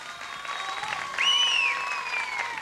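An audience at a Turkish music program featuring Azerbaijani garmon claps in a steady round of applause, swelling midway, with sustained whistling or tonal notes riding over the clapping.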